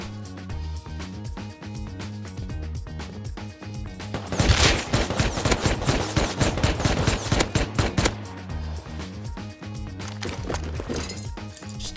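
Rapid automatic gunfire from the video game Rust crackles in dense bursts over a steady backing track, with sparser shots before and after the heaviest volley.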